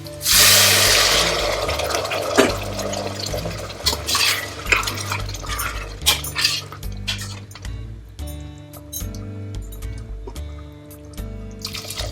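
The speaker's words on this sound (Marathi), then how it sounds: "आणि आता गरम पाणी." Hot water is poured into a cooking pot of khichdi made with rice and mung dal. A loud splashing pour comes first, then quieter stirring and liquid clinks, with faint tonal music underneath.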